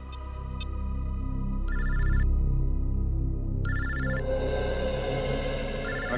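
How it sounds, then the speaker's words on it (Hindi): A telephone rings in repeated electronic bursts with short gaps between them, heard over a low background music bed in a TV crime drama scene. "अरे तुम्हें ही फोन लगा रहा था"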